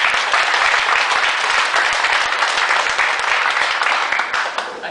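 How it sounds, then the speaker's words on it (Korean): An audience at a business lecture applauds a guest speaker. The clapping is loud and dense and continues steadily for several seconds, then begins to thin out at the end. "다시 한번 박수."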